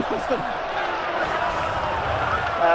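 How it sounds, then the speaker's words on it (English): A dense roar of arena crowd noise at a Dota 2 major esports tournament in Shanghai, steady and loud throughout, with a commentator's voice talking over it. "He's getting the applause now, Jackie."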